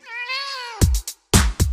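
A cat gives one long rising-and-falling meow close up, followed by several short sharp knocks or taps, loud and clear with no talking.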